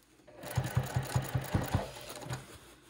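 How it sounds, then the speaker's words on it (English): Sewing machine topstitching a line down the outseam of a pair of trousers, a steady run of rhythmic mechanical stitching pulses, close and fairly loud, with no talking. "I'm just gonna do a line of top stitching down to about hip line on the outseam."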